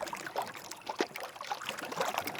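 Water trickles and laps softly under a bamboo raft on Periyar Lake, a faint, irregular patter with no voices.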